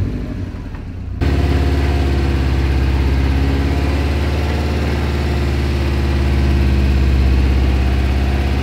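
A Subaru STI jacked up off the ground and run hard in 6th gear: a low idle swells abruptly into a loud, sustained, droning engine roar that holds steady at high revs, close and without talk.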